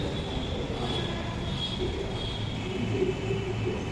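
Steady rumble of a Delhi Metro train riding near Nangloi and Surajmal Stadium, with a constant low roar, a faint high whine and light rattling wheel noise throughout, no speech.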